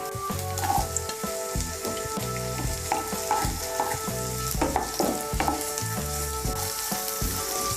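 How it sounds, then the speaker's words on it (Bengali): Chopped capsicum frying in a pan with lightly fried chopped beans for fried rice, a steady loud sizzle with intermittent stirring and scraping knocks throughout, no talking. "এখন আমি এর মধ্যে দিয়ে দেব ক্যাপসিকাম কুচি।"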